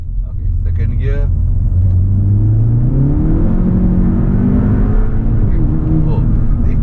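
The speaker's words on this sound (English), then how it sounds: "The gear shifting is so much faster, and since there is no torque limit intervention, I'm spinning my wheels." A Skoda Octavia RS engine with a stage 3 TVS gearbox map roars loudly as it revs and climbs through quick gear shifts, its pitch rising and dipping, with steady road rumble from spinning wheels and no speech.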